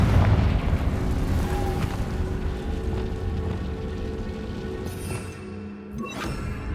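Confringo, a fire blast spell in a Harry Potter video game, goes off as a deep rumbling burst that slowly fades, with a few crackling hits and a sharp thud near the end.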